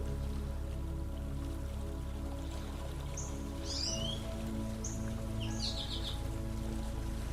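Steady rain falls around a camper at a campsite, a soft continuous hiss with low rumble beneath, while a few bird calls chirp faintly in the middle distance.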